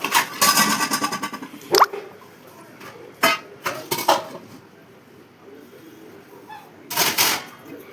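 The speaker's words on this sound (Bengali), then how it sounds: "দেখো তো বাসনগুলো গুছিয়ে গুছিয়ে গুছিয়ে রেখে দিচ্ছি" Steel utensils clank and clatter as they are wiped and stacked, several sharp metallic knocks and rattles in irregular bursts with quieter gaps between, close by and clear.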